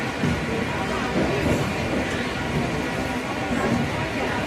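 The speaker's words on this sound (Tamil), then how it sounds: "நமது ரயில் புறப்பட்டு விட்டது." A main line EMU train travelling from Villupuram toward Tambaram, heard from inside as a steady, dense rumble of wheels and carriage noise with faint rhythmic clatter, continuous and fairly loud.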